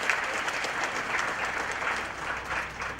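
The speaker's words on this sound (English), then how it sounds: "Can we give him another round of applause?" Steady, even applause from a seated graduation audience, a continuous crackle of many hands clapping at moderate volume with no voices breaking through.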